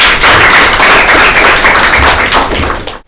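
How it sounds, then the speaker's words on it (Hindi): An audience at a Christmas Bible quiz claps loudly and densely to welcome a school team, a full burst of close applause that holds for about three seconds and then cuts off sharply. "अब मैं Saint Francis convent high school की टीम को दावत देना चाहती हूँ आपकी भरपूर तालियों में।"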